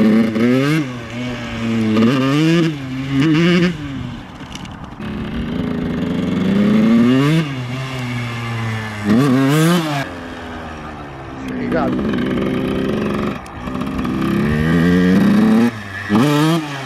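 A Yamaha 82 YZ motocross bike revs in loud, rising and falling bursts as it pulls wheelies, close by, with people talking over and between the engine surges.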